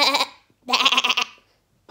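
A human voice imitating a sheep, two nasal bleating baas, the second longer and wavering, loud and close with a short pause between them.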